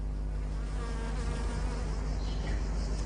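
Bees buzz in a continuous, fairly quiet drone with a low steady hum underneath, the insect whine wavering slightly in pitch throughout.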